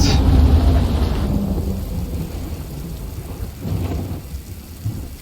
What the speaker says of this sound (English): I thought it wasn't supposed to rain at the port!